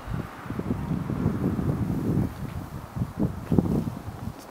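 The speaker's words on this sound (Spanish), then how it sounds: "soplando aire del norte" A cold north wind blows against the microphone at night, gusty low rumbling buffets that rise and fall without pause, no voices.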